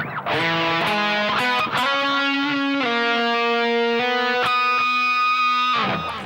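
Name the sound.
distorted electric guitar phrase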